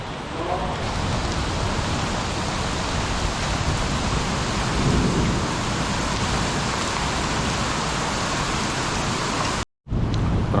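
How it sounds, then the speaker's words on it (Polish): Heavy, steady rain pours down in Krynica-Zdrój in a dense roar, with low rumbling thunder mixed in, broken by a brief cut near the end. "jest coraz mocniejszy opad deszczu"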